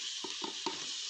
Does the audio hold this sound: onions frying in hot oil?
yes